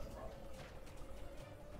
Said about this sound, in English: Let's hear a dog.